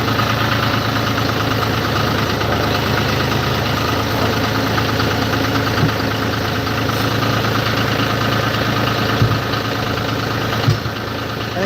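A John Deere tractor engine idles steadily and loudly up close, a continuous low rumble with a few faint knocks and clanks, with no talking.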